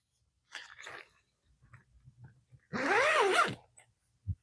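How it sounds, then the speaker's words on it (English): The window flap of an EchoSmile eight-person instant tent is zipped: a few soft fabric rustles, then one long, close, rasping zip pull of just under a second, ending with a small click. "But they do zip all the way down."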